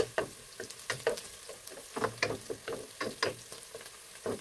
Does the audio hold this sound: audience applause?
no